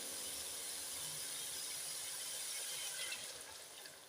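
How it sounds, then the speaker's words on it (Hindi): Water poured into a pot of aloo chicken curry, a soft, steady splashing hiss heard close by that trails off toward the end. "यहाँ मैं डालने लगी हूँ पानी।"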